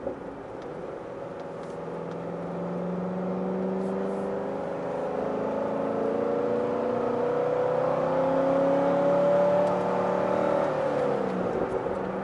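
A Corvette Grand Sport driving over rough, poorly surfaced roads, its engine droning steadily with gradual rises in pitch as it pulls through gears, a continuous close cabin hum with no talking.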